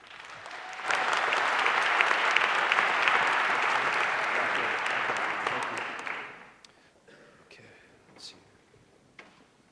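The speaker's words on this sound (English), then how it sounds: "Give them a round of applause, please." An audience welcomes hip hop pioneers onto a stage with a loud, dense burst of applause that swells at once and holds steady for several seconds, then fades into scattered faint claps and soft room noise.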